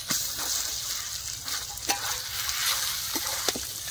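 Onions frying in a pan for mini beef rolls, a steady bright sizzle with occasional soft scrapes and clicks, close and continuous with no talking.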